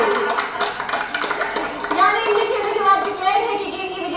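Game show audience claps enthusiastically for a contestant, brisk uneven clapping mixed with children's voices and chatter, steady and close throughout.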